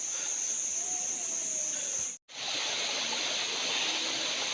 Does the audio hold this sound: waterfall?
yes